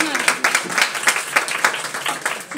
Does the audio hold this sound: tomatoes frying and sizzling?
no